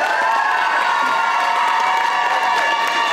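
Audience at the Japan Day Arlon 2025 cosplay contest announcement applauding and cheering, a dense, steady wash of clapping and shouts filling the whole stretch at close range.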